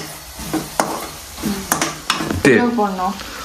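Andhra style green chilli chicken frying in a pan, a close sizzle broken by several sharp scrapes and clinks of a spatula against metal, with a voice speaking briefly near the end.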